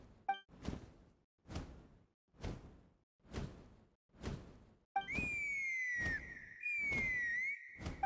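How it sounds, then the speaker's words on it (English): In a video game, rhythmic whooshing wing flaps beat about once a second, then a clear, sustained whistle with a wavering, sliding pitch sounds loudly over the continuing swooshes. "That sounded like a whistle."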